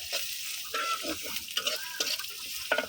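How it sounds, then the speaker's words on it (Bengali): Chopped onions fry with garlic in oil in a pan, with a gentle sizzle under repeated scraping stirs from a spoon, close and fairly quiet. "রসুনগুলা কালার হয়ে গেছে তো এখন আমি দিয়ে দেবো পেঁয়াজ কুচি"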